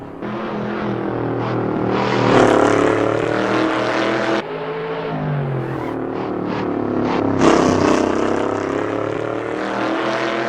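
A Shelby Cobra 427 roars through a racing drive in the video game Assetto Corsa, its loud, continuous engine note rising and falling in pitch with a brief break partway through.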